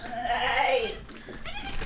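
A house goat bleats at evening feeding time indoors, one short wavering bleat followed by a quieter second cry, close and fairly loud.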